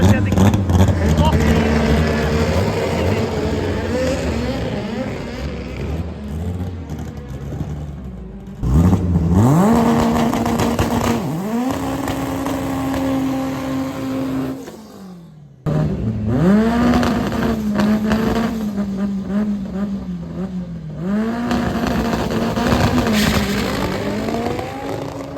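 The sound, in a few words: turbocharged front-wheel-drive Ford van drag racing run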